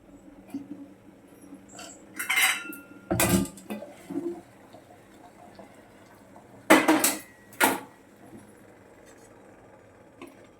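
Pots and a lid clatter on a kitchen stove while rice flour vadiyalu are being made, with a few sharp metallic clanks and scrapes spaced by quiet gaps and faint background sounds.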